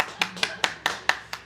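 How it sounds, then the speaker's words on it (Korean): Sharp, distinct hand claps ring out one after another at a church young adults' service, about six evenly spaced slaps that sound close and fairly few in number rather than a full crowd. "박수 해주세요."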